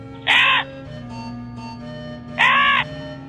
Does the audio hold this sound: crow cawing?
yes